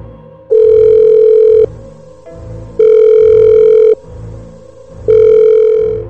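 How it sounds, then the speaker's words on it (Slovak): A telephone rings on and on, three long loud electronic rings separated by pauses, with nothing else heard. "Telefón zvonil dlho, až kým to niekto nezdvihol."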